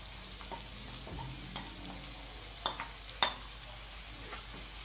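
Chickpeas, soaked overnight and boiled until tender, are tipped into a sizzling tagine pan and stirred, giving a soft, steady fry hiss with a few sharp clinks and scrapes near the middle.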